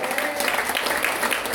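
Brief, steady clapping from a crowd at a rally, a continuous patter of hands heard at moderate loudness over its short span.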